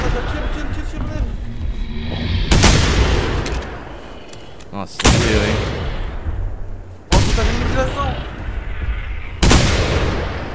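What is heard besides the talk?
gunshots in a video game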